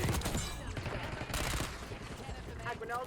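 Gunfire in Black Ops 6 multiplayer, bursts of weapon fire crackling through busy game noise with a clatter of shots and effects, fairly loud and layered throughout.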